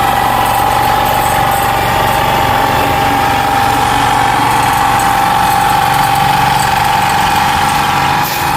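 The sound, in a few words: outboard engine of a fishing boat running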